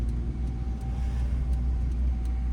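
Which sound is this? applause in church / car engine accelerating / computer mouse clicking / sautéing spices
car engine accelerating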